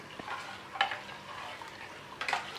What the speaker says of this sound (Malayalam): വീണ്ടും സ്പൂൺ കൊണ്ട് 2-3 മിനിറ്റ് നന്നായിട്ട് ഇളക്കി കൊടുക്കണം